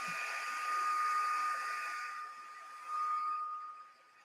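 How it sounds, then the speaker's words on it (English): A craft heat tool blows steadily as it warms up, a continuous airy whoosh that dips briefly and swells again, close by with no talking. "I'm going to turn on my heat tool and let it heat up for a minute"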